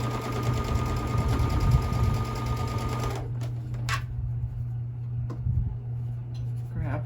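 A sewing machine stitching quilt block pieces runs in a fast, steady whir for about three seconds, then stops, leaving quieter clicks and handling noises nearby.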